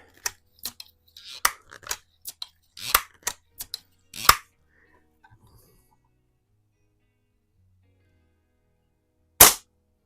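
An old Daisy No.107 Buck Jones air rifle being handled, with a run of light mechanical clicks and taps from cocking and pumping, then a quiet pause and a single sharp, isolated crack of the shot near the end.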